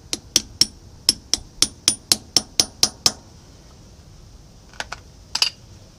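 Small hammer tapping a brake shoe part into its notch on a heavy duty drum brake of a 1963 Chevy C20 truck, a run of about a dozen sharp metallic taps in steady rhythm, then a few scattered knocks after a pause.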